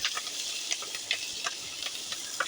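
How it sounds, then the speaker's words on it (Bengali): Green chilies sizzle in hot oil in a pan with onions, a steady bright crackle with scattered sharper pops, close up and with no one talking. "কাঁচামরিচগুলো ফুটতেছে,"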